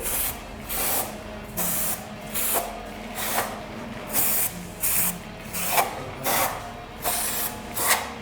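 Cleaner sprayed onto a motorcycle engine under repair in a garage, the same kind of spray used for cleaning brake discs: about eleven short, loud hissing bursts in an even rhythm, close by and with no talk.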